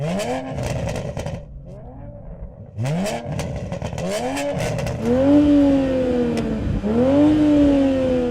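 A Toyota Supra engine revs hard again and again, its exhaust rising and falling in loud, sharp bursts with crackling pops between throttle blips.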